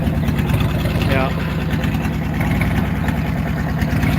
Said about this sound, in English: Listen to that exhaust. Sounds like a old beat up Harley that hasn't been on the road for 20 years.